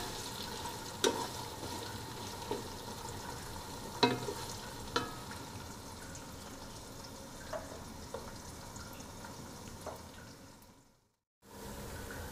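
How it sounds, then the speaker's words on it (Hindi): Onions fry in oil for a chickpea pulao, sizzling steadily at a low level while a spoon scrapes and stirs the pan in occasional sharp clinks, before a brief drop into near silence. "प्याज को हम लाइट ब्राउन करेंगे।"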